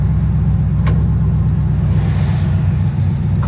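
A project Pontiac Firebird races a Prius, its engine a loud, close, steady low rumble that holds without much change in pitch.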